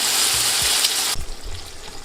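Chicken browning in a pot sizzles and crackles steadily and loudly, with a couple of low stirring knocks; the frying hiss drops off sharply halfway through.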